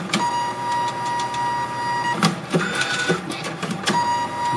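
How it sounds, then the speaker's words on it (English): Sony UP-CX1 dye-sublimation photo printer working through a print cycle: steady mechanical whirring with soft clicks, thumps and a faint high whine, moderately quiet and close, no talking. "You can see the printer's already got the print, and it's going through its printing cycle."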